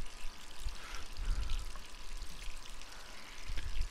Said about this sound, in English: Jill, why are you filling up your sink full of water? Or why'd you leave the faucet on to begin with?